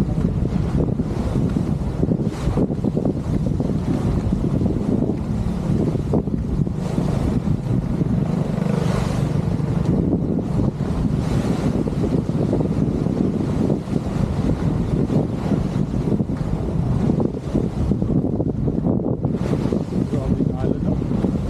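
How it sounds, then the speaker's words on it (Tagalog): Loud gusting wind buffets the microphone over the crash and wash of strong sea waves on the coast of Romblon, Philippines, continuous throughout, with occasional voices underneath. "Grabe yung alon, no?"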